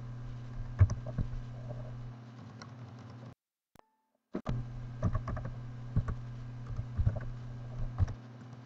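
Terminal commands being typed on a computer keyboard, a steady run of close, light key clicks with a short silent gap midway before the tapping resumes.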